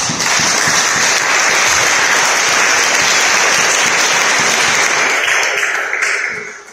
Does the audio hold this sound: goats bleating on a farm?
no